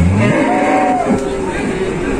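Cattle low loudly at a busy livestock market at Gondanglegi, with one drawn-out moo close by over a steady background of crowd noise and other animals.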